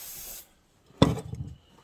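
Cleaner sprays onto the carburetor of an old Pioneer P40 chainsaw in one short, sharp hissing burst, close up, after a faint earlier hiss and a moment of silence.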